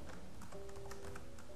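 Quick keystrokes on a computer keyboard as a date is typed in a word processor, a brief run of light, closely miked taps with a faint steady hum behind.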